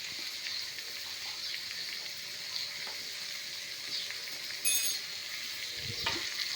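Carrot and potato frying in a pan with turmeric and salt, a steady soft sizzle throughout with a brief brighter crackle near the middle and a low clatter toward the end, no voices.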